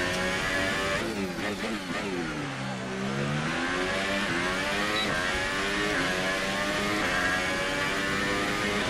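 An F1 2018 race car in a career-mode video game revs hard, its engine note sweeping up and down through gear changes in a loud, continuous whine with no talking.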